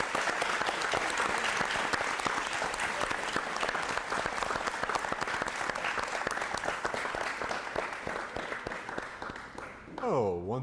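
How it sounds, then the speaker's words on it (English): An audience at an Appalachian spoken-word event gives a round of applause for the speakers: dense, loud, sustained clapping that fades toward the end, followed by a brief voice. "let's get another round of applause for all the speakers"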